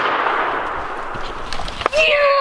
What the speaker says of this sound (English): Grayson got the shot and he took it and he dropped the bird.